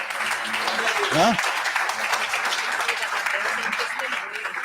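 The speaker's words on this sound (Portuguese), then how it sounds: "Dê um aplauso ao Senhor Jesus." A church congregation applauds steadily for several seconds during a service, dense clapping filling the room, broken once by a short spoken exclamation.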